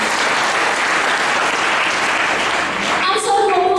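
Church congregation in Kupang breaks into loud, sustained applause that fills the space evenly, with a voice beginning over it near the end.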